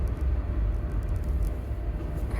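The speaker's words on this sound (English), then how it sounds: "There's too much noise coming in this car." Low, steady road rumble inside a moving car, continuous and fairly loud in the cabin with faint higher hiss above, no talk.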